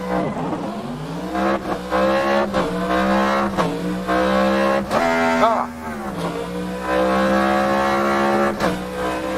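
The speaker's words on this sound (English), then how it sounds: "apparently that turbo hitting too hard and it's not sounding like like I want it to sound" Turbocharged car racing in Assetto Corsa, with a loud, steady engine roar climbing through the revs, dropping sharply on several quick gear shifts, and a brief dip near the middle of the run.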